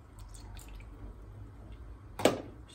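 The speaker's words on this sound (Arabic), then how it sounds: "نزيدو شوية الماء" Water is poured briefly into a pan of Moroccan vegetable tagine with spices, a short splash against quiet kitchen background.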